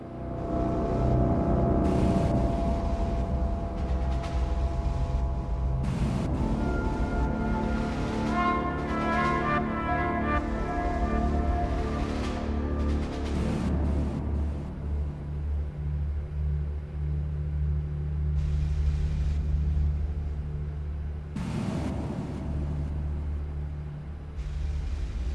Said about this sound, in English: It's like a God Thunder himself coming. It's like lightning, shit, everything. Tornadoes.